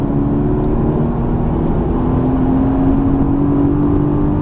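A Mercedes-AMG GT S on a racetrack pulls hard at full throttle, its engine note loud, close and continuous, with a steady rising drone throughout.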